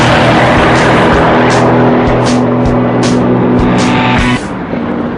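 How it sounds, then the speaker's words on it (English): A powerful Chevrolet Corvette C6 engine roars close up under hard throttle, a loud sustained growl that drops off abruptly near the end. "when you really hammer it, it starts to sound like a proper muscle car."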